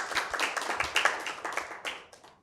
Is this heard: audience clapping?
yes